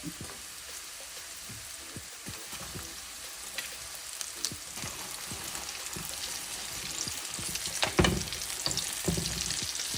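Chicken pieces frying in a pan for sesame chicken, stirred constantly, with a steady close sizzle and scattered clacks and scrapes of utensil on pan that grow busier toward the end.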